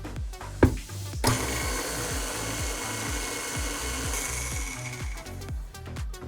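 A stand mixer blends an egg into creamy oatmeal raisin chocolate chip cookie dough, its steady mechanical whir carrying a regular rhythmic churning beat throughout, with a couple of sharp knocks near the start.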